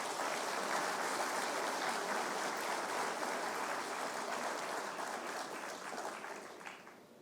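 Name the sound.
applause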